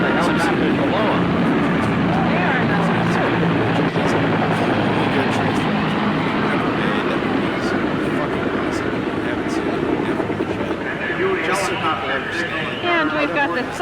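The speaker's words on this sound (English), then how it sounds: "here comes the B-25 over, and the helicopters below them" Aircraft noise from a B-25 bomber flying over with Huey helicopters below it, part of a Memorial Day parade in Dearborn; a loud, steady engine and rotor roar runs throughout, with crowd chatter and voices mixed in.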